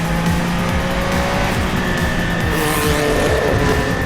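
A Group C race car engine roars loudly and steadily close by, revving hard as it accelerates, with tire noise underneath.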